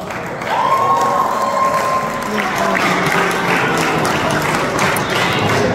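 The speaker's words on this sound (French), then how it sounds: "Est-ce qu'on peut applaudir pour Chamba, mesdames et messieurs" Audience applause in a hall after a debate speech on neutrality, a steady continuous wash of clapping from a crowd, with a voice talking over it near the start and brief cheering mixed in.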